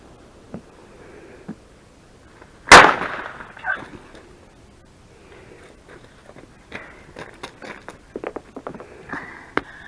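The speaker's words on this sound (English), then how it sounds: "All these fireworks are lit off by trained and professional dumbasses." Fireworks are let off outdoors: one sharp, loud bang rings out, followed by scattered small pops and crackles at varying distances.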